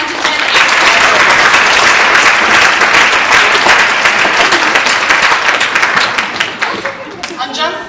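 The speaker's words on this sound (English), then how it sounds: "Let's applaud our finalists in the 9 to 10 age" Loud, sustained applause from an audience at a children's speech competition final, cheering the 9-to-10 age finalists, steady for most of the clip before thinning out and tapering near the end.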